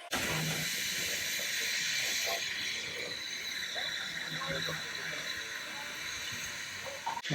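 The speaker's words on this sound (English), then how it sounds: "I'm steaming up." Steam hissing from a heritage railway steam locomotive as it steams up, a loud steady broadband hiss filling the whole stretch, with faint voices and low rumbles underneath.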